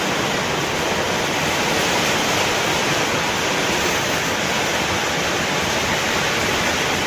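Heavy rain falls in an unbroken, loud rushing hiss, steady and close from start to finish with no voices or other sounds above it.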